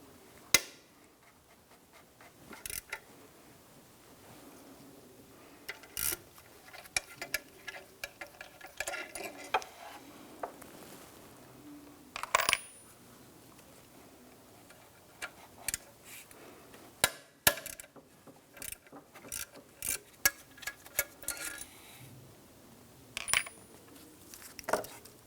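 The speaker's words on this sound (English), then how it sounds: "Using your 8mm socket here and ratchet, let's remove the bolts that we had marked." Removing water pump bolts from a 2005-2007 Ford Five Hundred engine with an 8mm socket and ratchet: irregular bursts of quick metallic ratchet clicks and occasional clinks of tools and bolts, close and quiet, with no talking.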